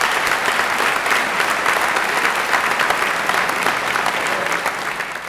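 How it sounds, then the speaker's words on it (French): An audience at a New Year's greetings ceremony in Rognac gives steady, dense applause, a continuous wash of many hands clapping that fades slightly toward the end. "on peut les applaudir"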